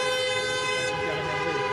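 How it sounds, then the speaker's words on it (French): Car horns honking in a jammed ring-road traffic queue on New Year's Eve, a dense sustained blare of several overlapping horns with traffic rumble beneath. "les klaxons retentissent"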